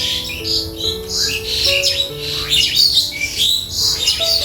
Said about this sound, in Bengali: বন্ধুরা পাখি ডাকছে শুনতে পাচ্ছেন মনে হয়